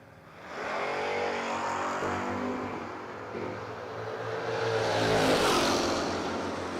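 Drag racing cars, a third-generation Camaro and a 1970 Dart, roar down the strip at a drag event, a sustained loud engine drone that swells toward the end, heard from a distance without talk.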